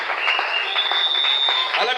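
A church congregation claps during a lively service, a dense, steady wash of applause mixed with raised voices and a sustained tone, all close and loud.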